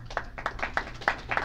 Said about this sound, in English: Someone has to start clapping.